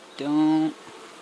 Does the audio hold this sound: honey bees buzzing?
yes